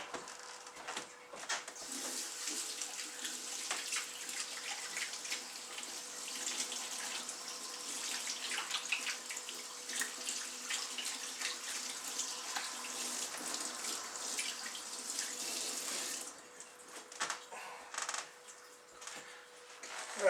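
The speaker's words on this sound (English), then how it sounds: "Give my hands a quick wash." Hands being washed under a running kitchen tap while baking cheese scones, a steady close splashing stream of water for most of the time before it shuts off, leaving a few scattered small clatters near the end.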